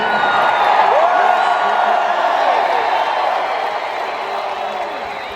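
A big rally crowd keeps cheering and clapping for Donald Trump, loud at first and gradually easing, with scattered shouts rising out of the dense, continuous noise.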